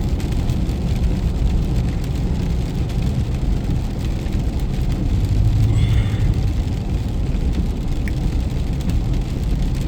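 Steady rain drumming on a moving car at night, a dense continuous hiss over low road rumble, loud and close throughout with no talking.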